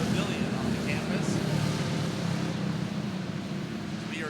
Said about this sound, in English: Our rookie cage cars coming out here for their hot lap sessions to kick us off.